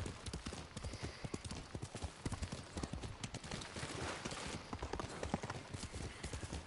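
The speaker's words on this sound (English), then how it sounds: "the horse is definitely the fastest way to friggin' travel around here" Horse hooves clip-clop in a steady, fast rhythm in the video game Ghost of Tsushima, over a continuous background wash, close and constant throughout.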